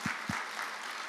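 A church congregation claps to encourage the children present at a special dawn prayer service, a soft, dense patter of applause with a couple of thumps near the start, at moderate distance.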